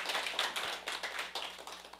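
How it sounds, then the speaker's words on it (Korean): An audience claps together at a Korean sales seminar, a dense, steady patter of many hands over about two seconds with no speech. "또 한번 박수 치겠습니다."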